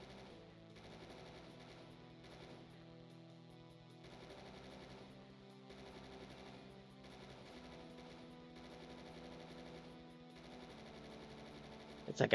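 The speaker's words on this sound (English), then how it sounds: "This gun's really good too. The new auto cannon." Rapid, sustained autocannon fire from a video game weapon rattles in long continuous bursts with short pauses, fairly quiet and steady.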